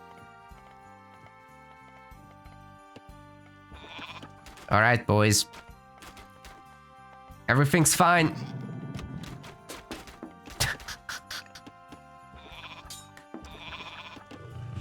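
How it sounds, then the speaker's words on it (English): Units turned into pigs by Aphrodite's god power in Age of Mythology let out two loud bursts of squealing over game noise, with someone commentating throughout. "Aphrodite coming in clutch, turning everyone into pigs, but they are Rapl's pigs"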